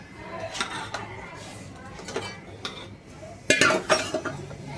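Boiled prawns going into a pot of Marathi kolambi rassa with kokum set off a few sharp metallic clinks and clatters of utensils against the pot, spaced irregularly at moderate volume.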